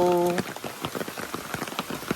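Steady rain patters on surfaces near a village home in Alibag, a dense spray of small drops that follows a short tonal sound at the start, moderately quiet and without clear speech.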